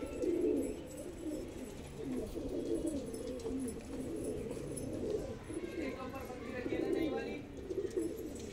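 Pigeons coo in low, throaty, repeated calls nearby, with a few faint higher chirps in the background.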